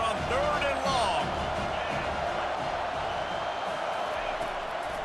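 Football stadium crowd on a 3rd and long during a BBN vs PSU game, a broad, steady roar filling the clip with scattered whoops and cheers, while commentators talk over it throughout.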